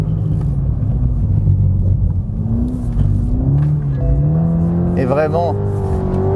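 Toyota GR Yaris or Supra engine revving hard at full throttle on a race track with little traction, a steady loud engine drone rising in pitch, with someone talking in French over it.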